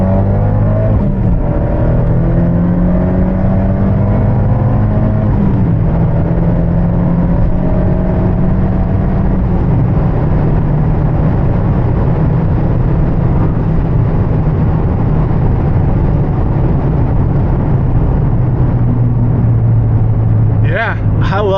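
Interior drone of an Abarth 124 Spider's turbocharged engine while driving, a loud low steady hum that shifts pitch as revs change, with someone talking over it throughout.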